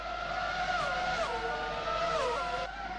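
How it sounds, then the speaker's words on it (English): Race cars roar through the streets of Monte Carlo in a Monaco race, a loud continuous engine drone with rising and falling pitch as the cars shift and pass. "loud-sounding engines of these cars around the streets of Monte Carlo"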